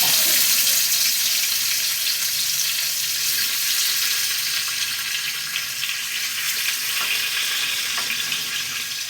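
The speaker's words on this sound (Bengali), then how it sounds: "গরম তেলটা আমি মাছগুলো দিয়ে দিচ্ছি, এক এক করে মাছগুলো দিয়ে দিচ্ছি।" Spiced katla fish pieces hitting hot oil one by one, a loud, bright, hissing fry that stays strong and steady throughout, close up.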